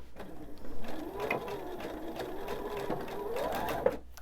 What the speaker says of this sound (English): I'm going to backstitch at the beginning and end